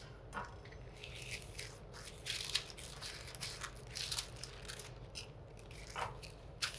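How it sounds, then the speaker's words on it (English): A blade cuts through folded layers of laminated pastry dough with butter, making soft, crisp crunching and snipping sounds in short, irregular bursts, close and quiet. "I cut through the layers."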